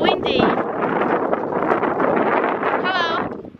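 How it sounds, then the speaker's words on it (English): Strong wind blows outdoors on arrival in Akureyri, Iceland, roaring steadily as loud broadband buffeting against the microphone for the whole stretch, with no talk over it. "Ooh, it's windy."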